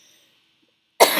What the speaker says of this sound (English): This cough has got to go.